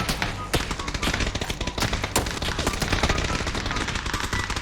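Dense automatic gunfire from the battle royale shooter PUBG, played in arcade mode, with rapid overlapping bursts and sharp single cracks running steadily throughout at close range, loud and continuous.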